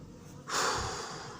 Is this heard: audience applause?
no